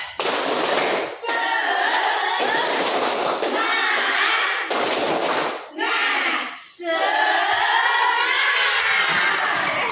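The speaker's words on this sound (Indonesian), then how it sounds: "Tepuk semangat." Rows of pupils in class do the patterned 'tepuk semangat' clap, with loud repeated bursts of hand clapping alternating with excited shouting and chanting from many children, all close and filling the room.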